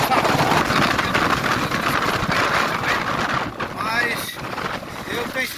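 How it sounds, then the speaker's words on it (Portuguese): Strong wind blows by the water at a fishing spot, roaring hard against the microphone in a loud, gusting buffet that eases slightly toward the end, with someone talking over it. "O vento tá muito forte."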